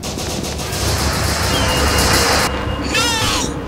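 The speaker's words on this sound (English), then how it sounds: "We should kill him all at once with gunfire." A dense volley of gunfire in the SCP horror video game, a loud continuous burst of many shots layered together for several seconds.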